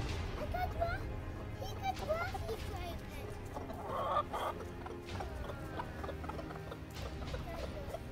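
Several chickens in a yard cluck and cackle repeatedly at close range, a busy overlapping chatter running throughout, with people speaking nearby.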